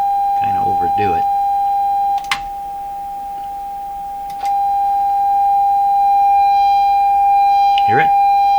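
A steady injected test tone plays continuously through the speaker of a Sony TR712 transistor radio, loud and close, briefly dipping twice, with short bursts of talk over it near the start and end.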